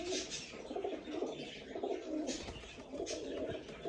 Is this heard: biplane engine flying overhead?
no